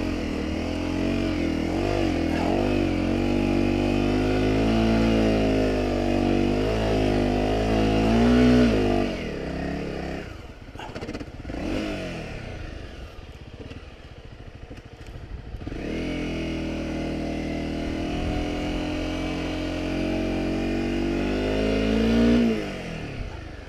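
A Honda CRF250 Rally motorcycle rides through soft beach sand at Goolwa, South Australia, its single-cylinder engine droning loud and close, revving up and down with shifting pitch, easing off midway before pulling hard again.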